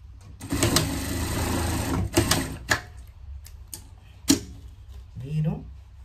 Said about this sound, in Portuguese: vou costurar aqui